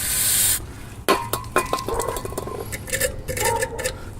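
A short, sharp hiss of brake cleaner sprayed onto rear disc brake caliper slides opens the sound, followed by scattered metallic clinks and taps of tools against the brake parts.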